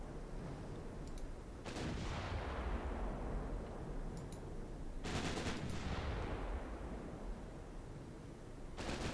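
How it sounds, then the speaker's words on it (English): Naval guns of the warship Sigurd fire in the Ultimate Admiral Dreadnoughts game: several heavy booming salvos with rumbling tails, spaced a few seconds apart over a low battle drone. "Sigurd is firing."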